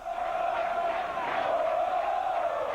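Small but loyal Corinthians supporters roar and chant in a stadium at the start of a match in the football game Futebol 2000, a steady, dense crowd din with a sustained tonal chant running throughout.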